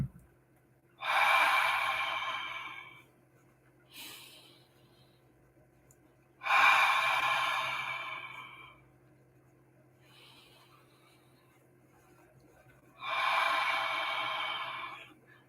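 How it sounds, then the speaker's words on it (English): Slow deep breathing, three long loud exhales spaced several seconds apart, with softer, shorter breaths between them over a faint steady hum. "we're taking deep breaths because you're going to guess what I'm looking at"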